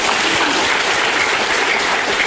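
Applause from a gathered crowd at a Korean religious reading meeting in Cheongpyeong, steady dense clapping filling the whole moment without pause, loud and close.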